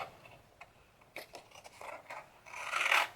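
Scissors snip through paper for a flower pot birthday card, a series of short crisp cuts in quick, uneven rhythm, close and fairly quiet, ending in a longer louder crunching cut.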